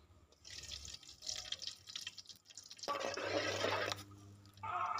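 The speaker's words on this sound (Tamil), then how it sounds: "நான் வந்து ஒரு நூற்றம்பது எம்எல் நெய் ஊற்றிக்கிறேன்" Ghee, about 150 ml, is poured into a pan while cooking a country chicken curry. A short wet pouring rush with a few drips sounds for about a second midway, close and moderately loud, amid quiet kitchen background.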